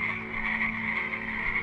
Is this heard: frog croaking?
yes